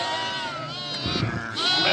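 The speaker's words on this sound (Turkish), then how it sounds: "bu sakız koyunumuzun ikiz yavrusu" Twin Sakız sheep lambs bleat close by, wavering high-pitched cries following one another, with a faint voice in the background.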